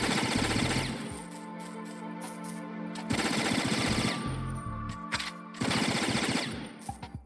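Bursts of automatic gunfire in Metal Gear Solid 2, three long rattling machine-gun volleys separated by short pauses over a low game hum, ending with a few single shots.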